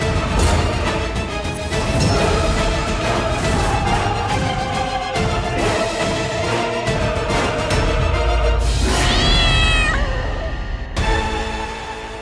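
A cat meows repeatedly and loudly with drawn-out, wavering cries, close by and mixed with dramatic background music and sound effects.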